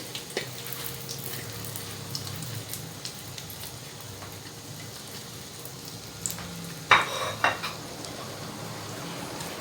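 Sausages fry in a pan with a steady, fine crackling sizzle, and occasional light taps and a sharper scrape of a utensil near the end, heard up close with no talking.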